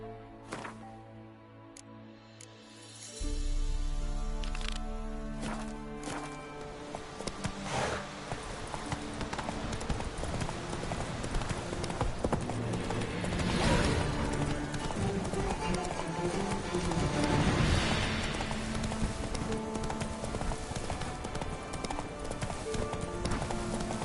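Roach, the horse in The Witcher 3, trotting with steady clip-clopping hooves under a loud, dense game soundscape of music and ambience that kicks in after a quieter opening.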